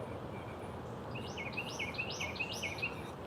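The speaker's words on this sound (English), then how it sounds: "The birds are chirping." Small birds chirp in the early morning in a steady series of quick, bright calls at moderate distance over a constant low ambient hum.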